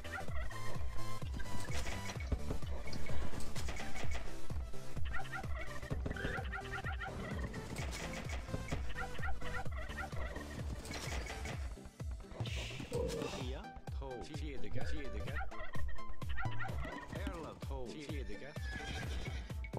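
Turkeys gobble in a strategy game, their bursts coming again and again over a busy mix of game sound, with talking running through it.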